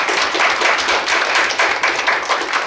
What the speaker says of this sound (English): Why don't you give her a big applause?